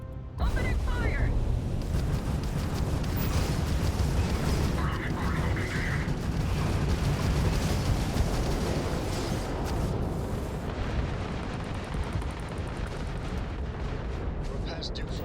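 Weapon fire and booming blasts crash through Starfield video game combat in a dense, continuous barrage of rumbling impacts and mechanical clatter, with bursts of sharper shots and a voice speaking over parts of it.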